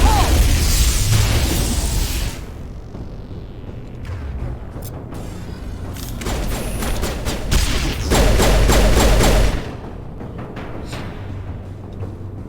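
Grenade blasts and bursts of gunfire in the Mass Effect video game combat, a loud rumbling explosion at the start, then scattered shots and a second heavy blast midway, booming and close.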